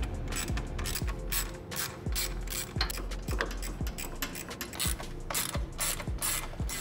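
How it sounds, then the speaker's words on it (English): A hand ratchet clicks rapidly in repeated bursts while loosening 10 mm bolts that hold the condenser to the radiator on a 2022+ GR86/BRZ, close and loud, with no voices. "There's four of these 10 millimeter bolts holding the condenser to the radiator that we need to remove"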